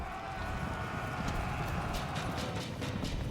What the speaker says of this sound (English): Those horses running away from everything.